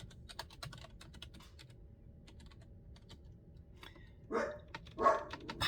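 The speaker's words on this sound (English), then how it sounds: "Let's type in relationships." Quiet typing on a computer keyboard: soft, irregular key clicks in a steady run, then a couple of louder thumps near the end against a faint background hiss.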